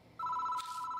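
Phone ringing in the horror game Death Mark, a continuous buzzing electronic trill that starts abruptly and holds steady, close and clear against a quiet background.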